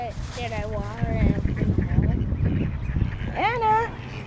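Nearby ducks quack and honk repeatedly in a noisy mix at a playground, with a few drawn-out calls standing out over the chatter.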